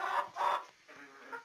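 Village hens and roosters in a Zonguldak flock give a few short, close clucking bursts with brief pauses between, with no talking.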